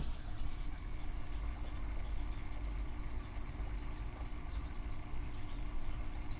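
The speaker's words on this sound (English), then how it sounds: "That's pumping really nice. I like that. And the sound of the pump," Steady low mechanical hum of a Fluval 407 canister filter pump running on a turtle tank, with a faint watery rush, continuous and even throughout with no voices.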